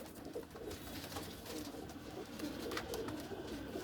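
Black-faced Sialkoti pigeons coo repeatedly at close range against a dense, continuous background of other birds and murmuring noise, with no speech.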